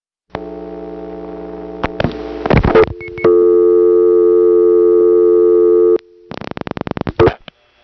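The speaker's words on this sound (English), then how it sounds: "you can hear the TRinity signature sound, the beating dial tones, all the way from Smyrna" Beating dial tones from Atlanta's TRinity step-by-step telephone office in 1979, heard over a T-carrier line from a Smyrna payphone: steady loud wavering tones broken by clicks and a burst of rapid pulsing near the end.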